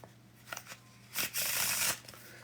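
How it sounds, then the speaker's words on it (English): Playing cards worked in a Pharaoh (faro) shuffle: a few light taps, then a dense, close riffling burst as the halves intercut, lasting under a second before it stops. "Do you know what a Pharaoh shuffle is?"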